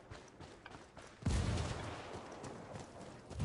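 A demolition charge blows up cargo in a video game: a low rumble and scattered pops build until a single heavy blast bursts in, followed by a long rolling decay of debris.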